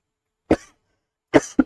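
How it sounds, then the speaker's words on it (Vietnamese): Coughing from choking on saliva, heard as one sharp cough, a pause, then two quick coughs close together, loud and near, with no talking. "Nước miếng sặc."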